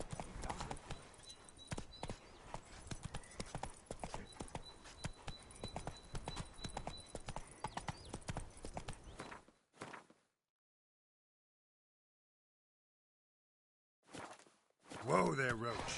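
Horse hooves clip-clop steadily in The Witcher 3, a close, busy walking rhythm under game noise for about ten seconds, then silence, with a short burst of sound and a voice near the end.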